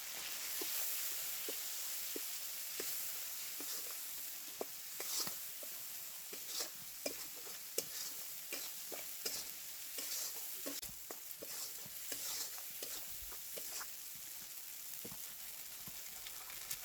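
Spice masala of cumin, turmeric, chilli powder and green chillies frying for chhana dalna, a soft low hiss beneath frequent sharp spoon clicks against the pan, steady and close, without speech.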